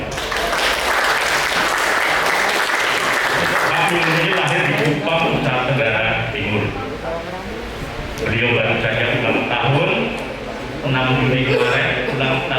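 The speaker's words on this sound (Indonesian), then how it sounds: "Tepuk tangan dulu." Applause breaks out among an audience at a Pancasila ideology and national insight outreach gathering, loud clapping with tonal voices or music layered through it, swelling and dipping in bursts.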